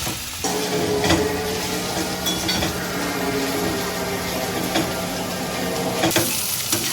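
Sliced okra (bendakaya) fries steadily in an oily pan, giving a continuous loud sizzle with occasional clinks of a utensil against the pan.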